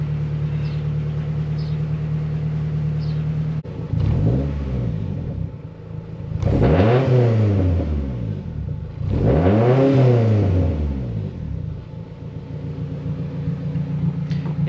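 Honda H22 engine revs repeatedly from idle, three rising-and-falling surges of loud, close engine roar over a steady idle hum, with no talk.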